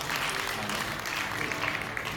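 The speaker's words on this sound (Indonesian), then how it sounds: "Boleh tepuk tangan buat Tuhan Yesus." Congregation applauding during a Sunday church service, a steady, dense wash of clapping lasting a couple of seconds at moderate level with no clear break.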